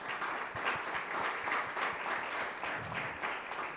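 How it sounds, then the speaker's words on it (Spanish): Steady applause from a congregation in a chapel, many hands clapping in a fairly quiet, continuous rhythmic patter with distinct claps throughout. "dale un fuerte aplauso"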